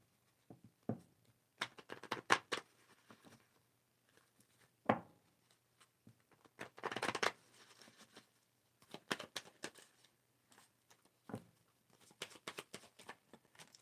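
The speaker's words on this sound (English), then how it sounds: "Let us get your oracle cards." Oracle cards being shuffled by hand in short bursts of quick papery riffles and taps separated by quiet pauses, close and soft, with no talking.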